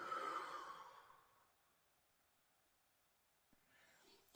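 A slow, deep breath is exhaled through the mouth during a guided relaxation exercise, a long breathy sigh that starts close and loud and fades to near silence, followed by a faint small sound.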